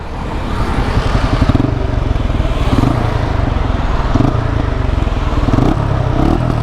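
TVS Apache RTR 160 motorcycle engine idling close by, a loud steady rapid thumping putter that continues alone throughout.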